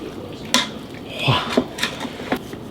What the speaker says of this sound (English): Now we're gonna stir it all together to make a happy medley